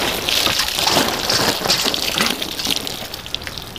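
Steady hissing spray of water striking a water-repellent bike cover up close, continuous and fairly loud with no voices.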